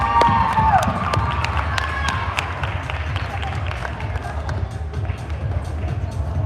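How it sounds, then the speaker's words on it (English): A crowd at a California youth gymnastics competition claps and cheers steadily for a performer, the applause broad and sustained with scattered whoops and a general hubbub throughout. "Everyone give her a round of applause"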